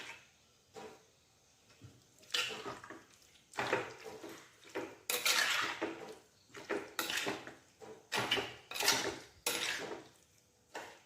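Curry being stirred and mixed in a pot, with repeated bursts of metal spoon scraping and clanking against the vessel in an irregular rhythm, close and clear, separated by short quiet gaps.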